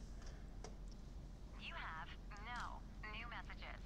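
Voicemail message playing back through a telephone in the Blair Witch video game, a filtered voice speaking in short phrases over a steady low hum, moderately loud and close.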